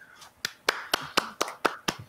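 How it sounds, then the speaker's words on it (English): A player at a live tabletop role-playing game session, a Marvel Super-Heroes game, claps his hands in a steady, even rhythm, about eight close, fairly quiet claps with no talk over them. "Iron Man's actually clapping."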